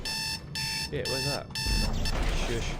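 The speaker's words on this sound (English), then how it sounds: "That's the alarm clock." An alarm clock in the video game Dead Space 2 rings with a steady repeated electronic beeping, loud and close, while a voice briefly speaks over it.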